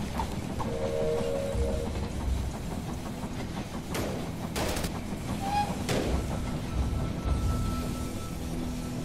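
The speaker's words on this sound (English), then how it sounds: "The train has arrived at the station." A train pulling into a station in the strategy game They Are Billions, a steady rumbling rail noise with clattering, a couple of sharp metallic bangs and a brief tonal whistle, no talk.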